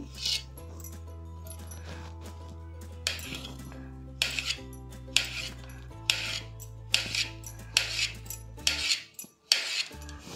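A knife cuts peeled raw plantain into pieces with close, sharp clicks and scrapes on a board, arriving in irregular bursts over a faint steady hum.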